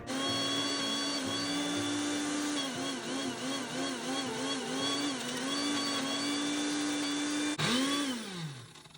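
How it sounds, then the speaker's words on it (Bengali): An electric kitchen mixer blends two weeks' worth of collected milk cream with a steady, high motor whine that wavers slightly as it churns, then cuts off and winds down at the end. "চলুন এবার একটুখানি কেটা মিক্সিতে ব্লেন্ড করে নিই"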